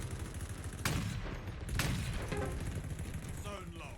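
Sniper rifle fire in Halo Infinite during a team battle match: two sharp, loud shots about a second apart over steady game noise, followed by fainter effects and a voice speaking.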